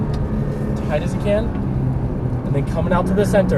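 A Nissan GT-R on a race track, its engine droning and rumbling under continuous close instructor talk as the car brakes and drives through the turns.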